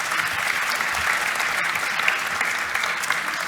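Conference audience applauding four panelists at a Kubernetes maintainers session, a dense, steady roar of many hands clapping at even volume from start to finish.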